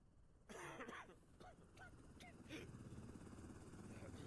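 A coughing sound effect from the video game Quarantine Zone: a short burst of harsh coughs near the start, followed by fainter breathy rasps over a steady low background hum.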